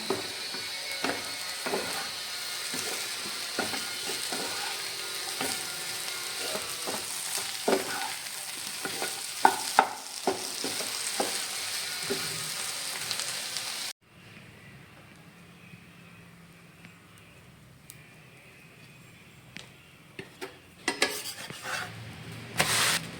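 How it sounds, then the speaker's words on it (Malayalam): Potato and egg fry is stirred and mixed in a pan, with a soft sizzle under repeated scraping and tapping of a spoon; the sizzle drops away partway through, leaving quieter scattered clinks. "ഇനി നമുക്കിതെല്ലാം മിക്സ് ചെയ്ത് കൊടുക്കാം"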